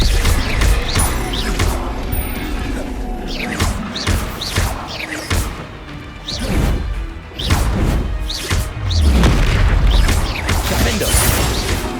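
Repeated crashing blasts and thuds from the Bombarda explosion spell in the video game Hogwarts Legacy, loud bursts recurring every second or two amid whooshing spell effects and dense combat noise, with a voice faintly underneath.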